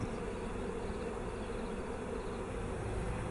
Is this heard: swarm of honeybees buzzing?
yes